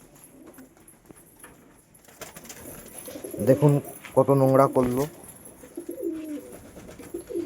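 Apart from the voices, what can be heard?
pigeons cooing in a loft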